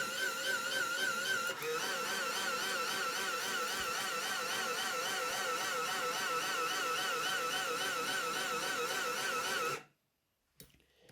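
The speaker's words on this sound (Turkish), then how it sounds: "Bu motor aşırı gürültü yapıyor." A homemade automatic cutting machine for MDF, PCB and plywood runs with a loud, shrill, warbling motor whine that holds steady for about ten seconds, then cuts off abruptly into near silence.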